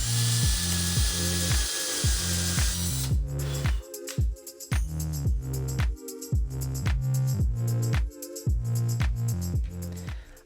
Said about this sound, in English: I'm using a drill and then some hardware